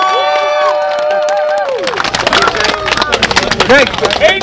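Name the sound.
crowd cheering for fighter Devin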